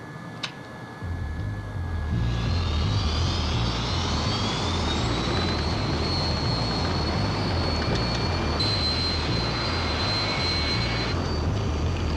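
An airliner on Flight 90 powers up for takeoff in a disaster film, a deep steady jet engine roar building and then holding loud and continuous with a rising whine on top, no voices.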